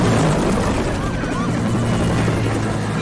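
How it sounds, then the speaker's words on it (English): A helicopter in a film scene, a loud steady rotor drone with deep throbbing low end holding throughout. "Yeah, the chopper."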